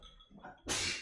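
A single sharp, explosive sneeze bursts out after a moment of soft breathy noise, loud and close.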